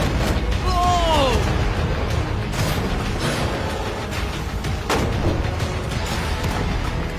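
Gunshots fired at a metal container during an outdoor challenge: two loud, sharp cracks roughly two and a half seconds apart, each ringing out over a steady rumbling background, with a brief voice near the start.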